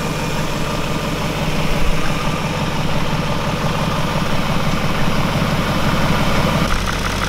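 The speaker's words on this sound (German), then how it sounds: "Aber der Motor hört sich gut an." A BMW E39 V8 engine idles close by, a steady, even low rumble with a faint vibrating texture, holding constant with no voices over it; the car has a faulty valve cover setup.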